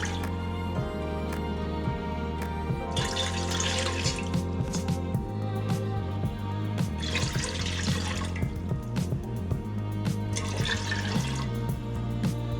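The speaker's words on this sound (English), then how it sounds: "Add enough water to cook the chow fun noodles." Water runs from a tap into a pot for cooking chow fun noodles, a steady pour with brief louder splashing bursts and a low hum in the background.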